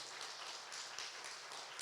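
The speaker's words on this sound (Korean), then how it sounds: "우리 장로님들 수고하시라고 박수 한번 쳐주시죠" A church congregation claps in a continuous, faint ripple of applause during a Sunday afternoon worship service, with many hands blending into a dense, steady patter.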